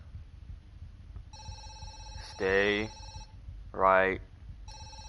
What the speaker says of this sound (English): The phone ringing, bruh.